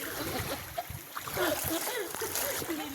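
Splashing and sloshing in knee-deep typhoon floodwater as people wade through it, with irregular nearby splashes mixed with voices talking throughout.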